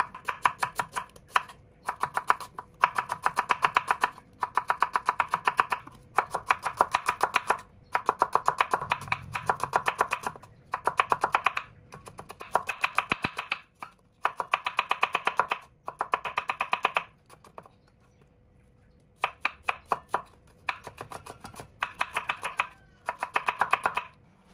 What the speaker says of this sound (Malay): Mayang bawang merah untuk dijadikan bawang goreng.